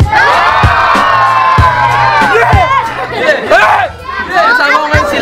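Loud crowd at an outdoor street rap battle in Tondo, Manila, shouting, whooping and cheering continuously, with sharp thumps cutting through the dense babble.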